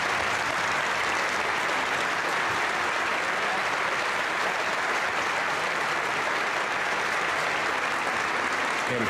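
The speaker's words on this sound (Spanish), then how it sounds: "El Parlamento Español, reunido en pleno, recibe con este aplauso al presidente de la República Argentina, doctor Raúl Alfonsín." Spanish Parliament in full session applauding Argentine president Raúl Alfonsín, a sustained, even wash of many hands clapping in a large chamber, steady and unbroken with no speech.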